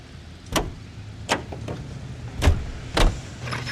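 A car driven in the crime video game L.A. Noire: a low steady engine rumble broken by four sharp, evenly spaced whooshing bursts, moderately loud and with no talking.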